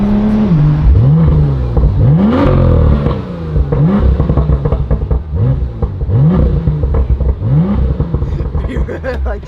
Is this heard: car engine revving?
yes